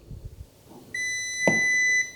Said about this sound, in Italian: C'è il beep.